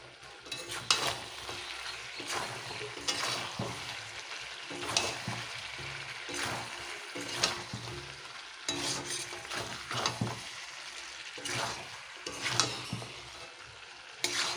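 Chicken pieces with onion and sugar fry in hot oil, a steady close sizzle under repeated stirring scrapes and occasional clinks, with no talking.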